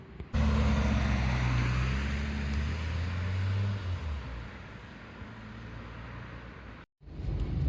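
A 1995 Peugeot 205 1.1 Mardi Gras drives along, heard from inside as a loud engine drone that rises, then eases into steady road and wind rumble, with a brief dropout near the end.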